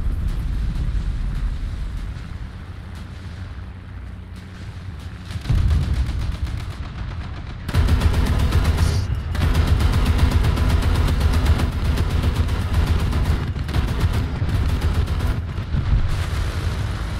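Tank machine guns hammer away in War Thunder, continuous rapid bursts of loud, dense firing that swell after a brief lull and keep rattling without pause.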